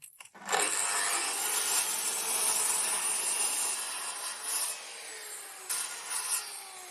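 Wood is sawn for building a wooden ladder, a continuous rasping cut close by that runs for several seconds, then eases into a few shorter strokes near the end.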